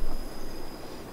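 Train on the Albula railway line, a short steady rumble of rolling wheels and a continuous mechanical hum with a thin high whine on top, moderately loud and with no voices.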